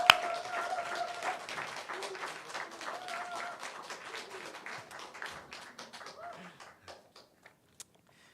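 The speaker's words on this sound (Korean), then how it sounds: "우리 전사님 나오실 때 떨지 마시고 담대하게 주의 복음 주의 말씀 증거하시라고 박수로 모시겠습니다" A church congregation applauds to welcome a young preacher at a Sunday afternoon service, a full burst of clapping that gradually thins into scattered claps and fades out.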